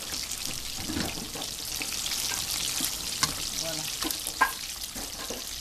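Okra and onion frying in a pan beside tilapia, a steady mid-level sizzle with occasional stirring clinks and a short spoken interjection.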